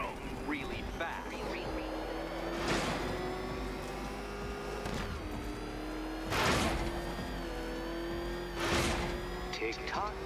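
The Batmobile's engine in Batman: Arkham Knight hums with a steady tone, then surges and roars in a few loud bursts as it races, and voices speak over the top.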